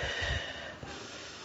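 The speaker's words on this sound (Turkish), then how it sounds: "Burundan nefes alıp" A single nasal inhalation, a sharp snort-like sniff drawn in through the nose at close range, alone with no talk over it.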